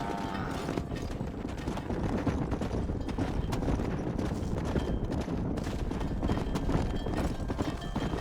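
In the Red Dead Redemption video game, horses and cattle are driven to pasture. A dense, continuous clatter of galloping hooves runs steadily throughout, with no talking.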